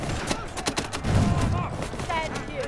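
Troops fire a volley in the video game Conqueror's Blade. A rapid run of sharp musket-like shots cracks out close together, followed by rumbling reports, with faint voices and battle noise in the background.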